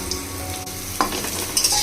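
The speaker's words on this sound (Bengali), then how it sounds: "এইভাবে করে একটা একটা করে সব সুন্দর করে ভেজে নিতে হবে বন্ধুরা" Bitter gourd (karela) pieces fry in oil in a kadai with a close, steady crackling sizzle and one sharp metallic clink partway through. No one speaks.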